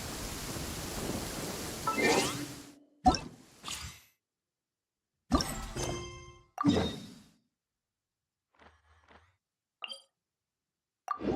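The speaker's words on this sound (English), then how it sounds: "Finally, the rain has stopped." Rain in the Genshin Impact video game: steady hiss that fades after a couple of seconds, followed by scattered thuds and crackling rumbles that die away into near silence.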